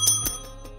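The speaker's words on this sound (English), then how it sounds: "I just had to test the bell and make sure it was even doing anything with the noise suppression" A single bell rings sharply, with a quick second strike after it, then fades away. It sounds clear and close, and no one speaks.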